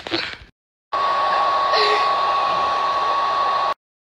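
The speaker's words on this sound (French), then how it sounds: "Mais tu crois que je vais dormir en appuyant sur ce sèche-cheveux?" A hair dryer runs with a steady, loud whoosh and a constant whine for about three seconds, starting abruptly after a brief noisy burst and a gap of silence, then cutting off.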